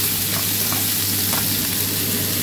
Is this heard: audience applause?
no